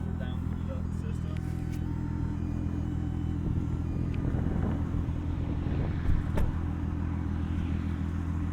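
A 1998 Volkswagen Jetta GLX VR6 turbo idles after a run, a steady low rumbling drone that holds even throughout with a faint wind-like hiss on top and one brief bump near the end.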